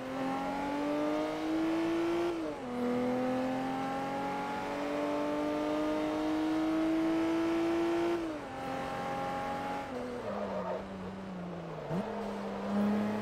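A Koenigsegg Speedster with a three-cylinder engine in Forza Motorsport 3 holds a loud, steady drone that climbs through the gears, dipping at each shift before rising again, alone without talk.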